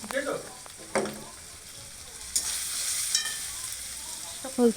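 Turmeric and chili powder are stirred into onions and ginger-garlic paste frying in oil, making a close, hissing sizzle with a few scraping stirs. Brief talk comes at the start and the end.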